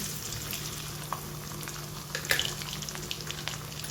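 Cumin seeds and chopped garlic sizzling in hot oil for a pointed gourd curry, a constant crackling hiss with occasional sharper pops and a brief livelier burst midway, no voices.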